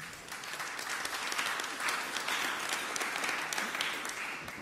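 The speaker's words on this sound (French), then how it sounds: "qu'on peut applaudir" Applause from the audience at a round-table conference on new technologies in finance, honoring the CNRS chief executive: an even, sustained patter of many hands at moderate distance, holding steady before tapering at the end.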